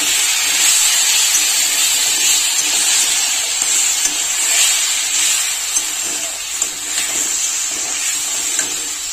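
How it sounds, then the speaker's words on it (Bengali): Rice and lentils fry in ghee over low heat for a winter vegetarian khichuri, producing a loud, steady, airy hiss that runs evenly throughout with faint bubbling beneath. "ঘি দিয়েই হালকা আঁচে চাল আর ডালটা একটু ভেজে নেব।"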